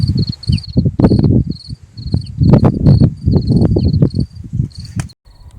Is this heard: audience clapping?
no